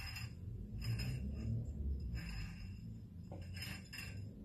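A DIY manual glass-cutting machine works on a glass bottle, giving a steady low rumbling hum with faint scraping and occasional light clinks of glass against metal, continuous and close.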